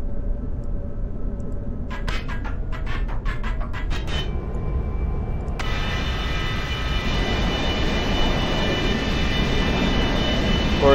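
A Boeing 727 jetliner comes in to land, giving a steady, loud roar of jet engines and rushing air that brightens and grows fuller partway through, with no talk.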